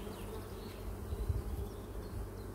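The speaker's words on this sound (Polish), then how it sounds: "Pszczół w tym ulu jest dużo." Honeybees buzzing inside a crowded, well-populated hive, a dense steady low hum that swells briefly in the middle, close and continuous with no voices.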